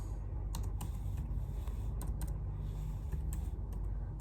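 A computer keyboard typed on while writing code for an object-oriented programming lab assignment: quiet, sporadic key clicks in small clusters over a low background hum, with no voices.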